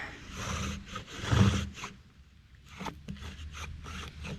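Rhythmic wooden rasping and scraping of a bow drill used to make fire, a back-and-forth friction sound that swells and fades, close by with no talking.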